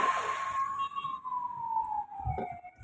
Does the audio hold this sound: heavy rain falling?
no